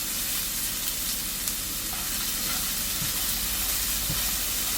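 Salmon hash ingredients, including red onion, sizzle in a pan as they start to cook, a constant dense hiss with no talking.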